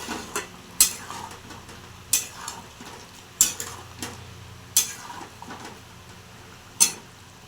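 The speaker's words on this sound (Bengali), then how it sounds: "এবার আমি নাড়াচাড়া করি।" A spoon scrapes and taps through a poppy seed curry with lentil bori and potatoes in a pan. Several sharp clinks land against a low, quiet background sizzle, with no voices.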